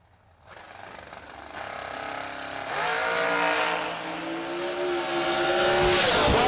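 Drag racing car making a run at about 159 mph at a New Year Nationals drag event; the engine builds and screams upward in pitch, growing louder and closer, with no talk.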